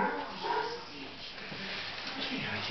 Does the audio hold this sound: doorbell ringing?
no